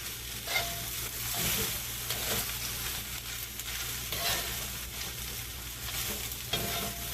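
Spinach tossed into fried rice loaded with steak, shrimp and chicken sizzles loudly and steadily in a hot pan, with scraping stir strokes breaking up the continuous frying hiss, no voices present.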